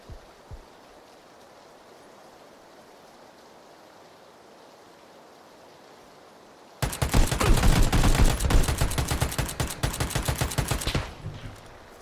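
Sustained automatic gunfire in the battle royale game PUBG, arriving suddenly after a quiet stretch as a loud, dense burst of rapid shots lasting several seconds before cutting off.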